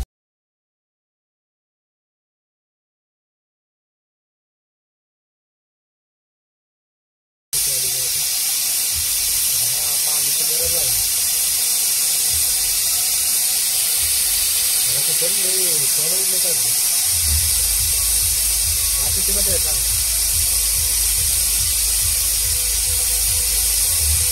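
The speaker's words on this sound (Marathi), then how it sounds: "कुकरला पहिली शिटी आलेली आहे" Pressure cooker venting a steady loud hiss of steam while cooking veg biryani inside a truck cab, continuous after a silent start, with voices talking faintly underneath.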